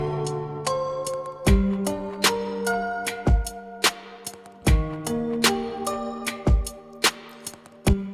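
Drum loop built from kitchen percussion samples, clanks and taps of utensils, with a kick and snare added, all sharing one reverb; a steady rhythmic groove of sharp repeated hits and deep thumps, loud and close with no talking.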